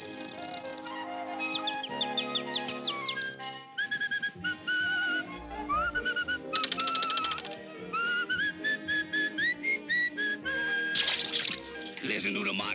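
A bright, melodic whistled tune with quick trills and sliding notes, played alone at close range in short phrases.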